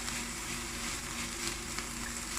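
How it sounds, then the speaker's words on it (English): Onion and pepper frying in a pan, a steady close sizzle with faint crackle and no talking. "it's been about 5 minutes frying my onion and pepper"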